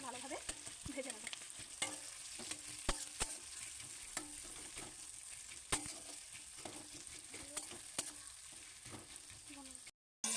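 Onions frying in hot oil, a steady bright sizzle running throughout with repeated sharp scrapes and clicks of stirring; close and fairly quiet, with a brief dropout near the end.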